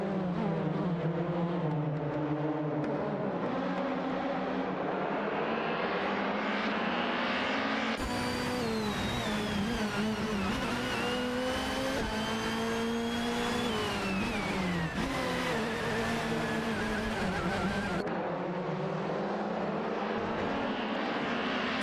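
Race car engines in an AI racing game, several whining tones sweeping up and down in pitch as cars accelerate and pass, a continuous loud drone with no talk.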